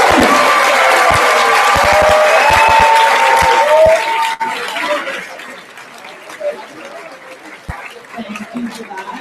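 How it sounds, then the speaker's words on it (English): Students in an assembly hall clap and cheer for their teacher advisors, a loud burst of crowd applause with shouts that fades after about four seconds into scattered chatter and laughter. "give a round of applause to your hardworking teacher advisors"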